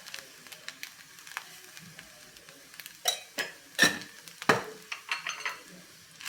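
Sabudana khichdi is stirred in a pan over a low sizzle, with a series of spoon scrapes and clinks against the metal that grow sharper and louder midway, then settle into lighter taps.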